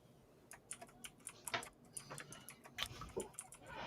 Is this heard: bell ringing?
no